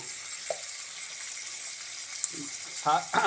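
Chicken giblets and liver frying in a pan with spices, a steady low sizzle running throughout, with a few brief clinks of a spoon and short bursts of stirring near the end.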